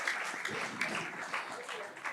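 Audience applause for guests on a Congolese talk show, a steady dense wash of clapping that holds for the whole stretch at moderate loudness, with a voice faintly under it.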